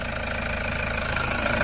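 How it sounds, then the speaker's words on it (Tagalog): A Toyota Grandia engine idles steadily and quietly after a sensor repair, holding an even, low mechanical hum with a faint rhythmic ticking, close up and with no talk over it. "Ayan, ganda ng makina, tahimik."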